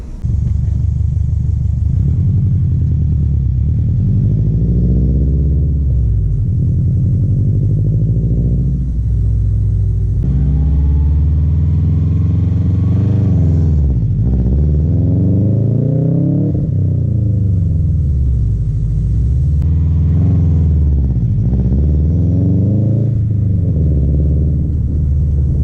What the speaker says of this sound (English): I'm going to show you guys the proper way to actually launch your car.